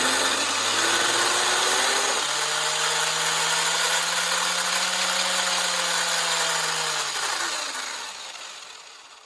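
Arrma RC car electric motor under throttle, a loud whining hum with tones that shift as the throttle changes, then winding down and fading near the end, no talking.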